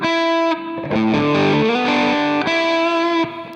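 Distorted electric guitar notes ring out loud and sustained, sliding between pitches, with no voices.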